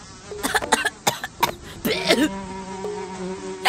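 A housefly buzzes around at close range, its drone sliding and wavering over a steady background, broken by several sharp bursts of noise like coughs or slaps in an outdoor animal setting among zebras.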